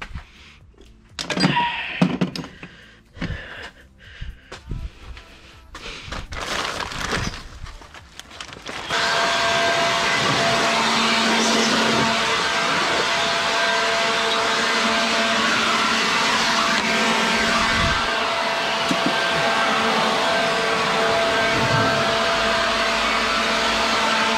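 Air blows steel filings out of a DIY snorkel on an Adventra. A few clunks and handling knocks come first, then a loud, steady rushing hiss of air that runs for about fifteen seconds.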